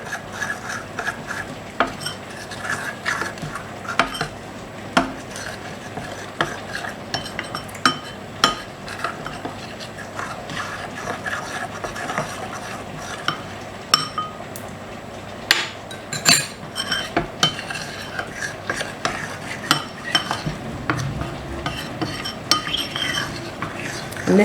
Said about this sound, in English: we're just going to gradually stir this in to make a smooth paste or sauce